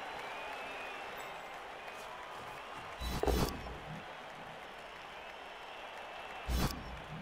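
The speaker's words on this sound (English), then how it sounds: "Cheering fans." Crowd noise from the Blood Bowl 3 video game at kickoff, with a faint continuous stadium roar and two brief louder bursts of cheering and clapping.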